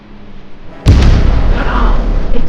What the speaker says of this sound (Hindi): एक जोरदार धमाका हुआ और खेत में कुछ आकर गिरा।